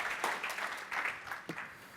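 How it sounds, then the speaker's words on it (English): Audience applause in a conference hall at Adobe Summit London 2026, a dense, moderately loud patter of many hands clapping with a few sharper claps standing out, no voices over it. "Everyone give Mihai a round of applause."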